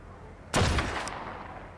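A single sniper rifle shot in the video game ARK Mobile, a sharp loud crack followed by a short decaying tail over faint background game noise.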